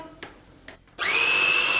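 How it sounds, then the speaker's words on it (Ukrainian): After a couple of soft clicks, an electric blender making pesto whirs to life with a sudden loud, high-pitched motor whine that holds steady. "Перший раз бачу такий блендер."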